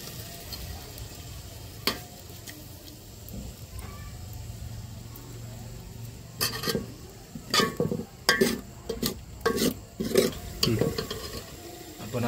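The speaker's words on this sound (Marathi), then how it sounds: "मित्रांनो आता आपलं लसूण अद्रक चांगल्यापैकी तळलेलं आहे, त्यामध्ये आता आपण" Ground masala added to fried garlic and ginger in a hot pan for mutton bati, with a soft sizzle followed by close, irregular scraping and clanking stir strokes that grow busier toward the end.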